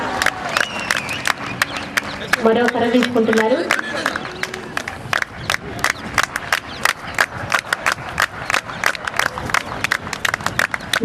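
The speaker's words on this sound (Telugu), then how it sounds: "రెండు చేతులతో గట్టిగా చప్పట్లు కొట్టాలి." A crowd claps in dense, continuous bursts at a stick-wielding display during a police training passing-out parade, while someone talks over a loudspeaker throughout.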